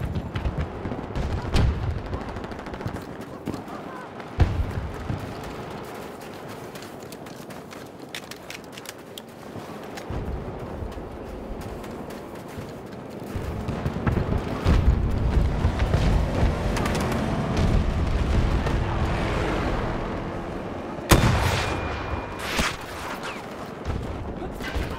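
A grenade explosion amid rattling gunfire in a Battlefield battle, with repeated shots, heavy booms and a sharp blast late on, over rumbling combat noise and scattered footsteps.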